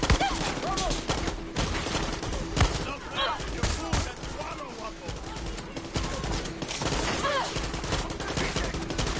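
Gunfire in the video game Far Cry 6: rapid, dense bursts of shots crackle continuously throughout, loud and close, with a voice talking over the shooting in places.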